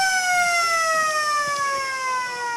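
A long, loud siren sounds steadily at an Australian rules football match, the tone sliding gently downward and heard alone without voices.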